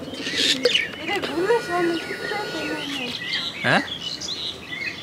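Birds chirp and squeak up close in short, scattered calls while eating ripe papaya, as a person speaks briefly.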